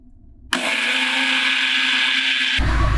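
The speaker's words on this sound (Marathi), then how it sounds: "आता हे सुद्धा तांदूळ वाटून दाखवते" A kitchen mixer grinder switches on after a moment of quiet and grinds soaked rice for dosa batter, a loud, steady high-pitched whirring motor roar that runs unbroken for about two seconds before the pitch drops.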